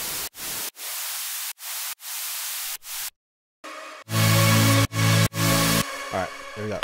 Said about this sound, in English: Just white noise.